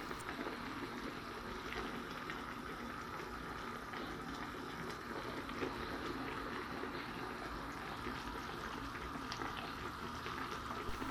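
Salmon head soup with vegetables, seasoned with black pepper and salt, bubbles at a steady low boil, a continuous soft, dense simmering hiss with no pauses.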